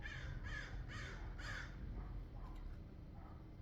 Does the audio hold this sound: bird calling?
yes